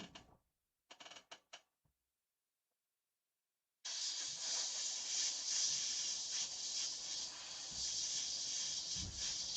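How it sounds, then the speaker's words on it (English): An airbrush sprays a white and orange paint mixture onto a figure, a steady close hiss running unbroken for several seconds after a few brief mechanical clicks and a pause. "I'm going to bring in some more airbrush with the white and orange mixture"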